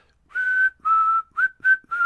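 A clear, close whistled tune of five sustained notes, evenly paced with short breaths between them.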